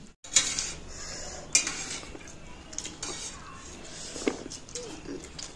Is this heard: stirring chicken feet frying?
yes